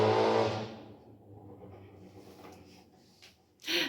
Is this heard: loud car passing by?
yes